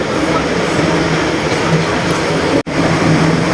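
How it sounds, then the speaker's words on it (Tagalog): A metro train rumbles steadily in a tunnel as it approaches, a continuous low roar with a brief dropout near the end. "padating na yung tren kung sasakyan"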